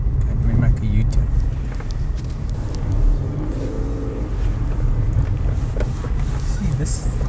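A car's engine rumbles steadily and close by as the vehicle makes a U-turn on a road, with a low droning hum throughout and people talking over it.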